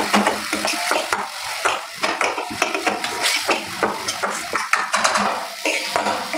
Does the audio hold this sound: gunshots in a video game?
no